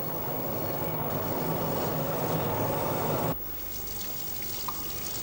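Wet cork polishing wheel running against cut glass gives a steady, dense hiss and whir that drops abruptly to a quieter level partway through, with no voices.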